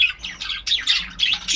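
Budgies in an aviary chirp loudly and close by in quick, bright bursts of twittering, with brief pauses between clusters of calls.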